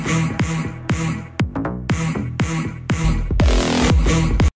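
A music mix plays through an emulated old hi-fi stereo preset, with steady punchy beats, a thick low end and a brief noisy swell near the end.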